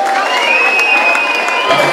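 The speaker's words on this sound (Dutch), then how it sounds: "applaus voor onze prins Jurgen de Eerste" Dense crowd noise at a carnival council installation, applause and cheering for the carnival prince, loud and continuous with a bright tonal element running through.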